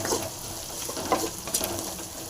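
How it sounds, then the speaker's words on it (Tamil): Dried red chillies fry in a pan of hot oil with a steady close sizzle and a few louder crackles and pops, no voices. "நல்லா ஃப்ரை ஆகட்டும்"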